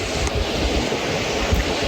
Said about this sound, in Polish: witamy piękne górskie potoki